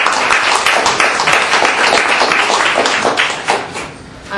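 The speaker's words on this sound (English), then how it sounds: "I think she deserves a huge round of applause." A small group in a Rules Committee meeting room gives a round of applause, close, brisk clapping that holds steady and then fades out.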